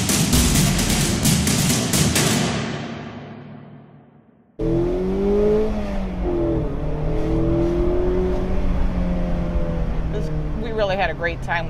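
A 2016 Mazda MX-5 Miata drives off and accelerates, its engine note rising and falling through gear changes. An earlier sound fades out before the engine comes in, and a voice is heard over the engine.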